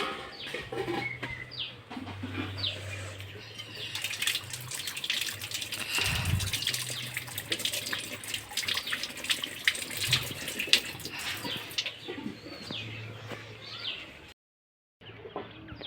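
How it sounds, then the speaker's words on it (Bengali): Running tap water pours steadily over a mango being washed outdoors at a village home, a continuous near splash with birds chirping in the background. "আমটাকে এখন ধুয়ে নিয়ে আসি"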